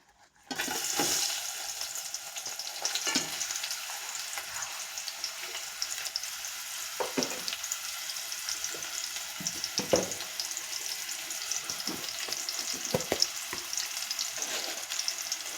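Sliced onion and green chillies hit hot oil with a loud, steady sizzle, popping and crackling close by, with a few clanks of a stirring spoon against the pan.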